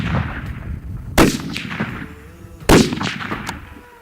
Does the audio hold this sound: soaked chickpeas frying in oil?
no